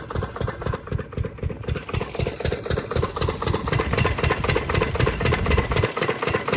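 A motorcycle idles while parked in a farm field, its engine throbbing in quick, even pulses that stay steady and fairly close throughout, with no voices over it.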